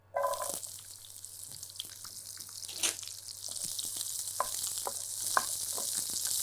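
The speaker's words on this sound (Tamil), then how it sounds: "இப்போ இதில் முதல்ல நான் வெங்காயத்தை சேர்த்துடுறேன்" Chopped onion drops into hot oil with a bright hiss that settles into a continuous frying crackle, with scattered light clicks and a low steady hum underneath, nearby and without speech.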